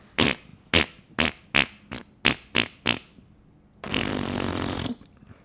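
A person imitates farts with the mouth: eight short, sharp sputtering bursts in a steady rhythm, then one longer, louder buzzing raspberry, all close to the microphone.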